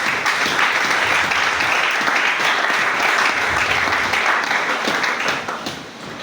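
A church congregation at a French-language service breaks into dense, sustained applause. Many hands clap together in a loud, steady wash that tapers off slightly at the end.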